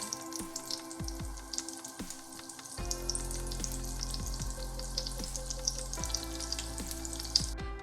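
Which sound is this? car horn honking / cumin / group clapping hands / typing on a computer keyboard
cumin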